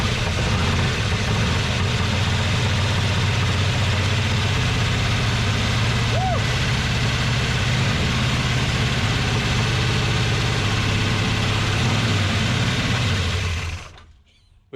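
Dodge truck with a 440 big block V8, long neglected, runs at a steady rough idle with a loud, continuous low rumble that cuts off abruptly near the end; faint voices sit beneath the engine.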